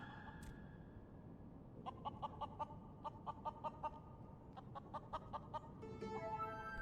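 A chicken in Final Fantasy XIV gives a rapid run of short clucks over steady game background noise, with a brief crowing-like squawk near the start.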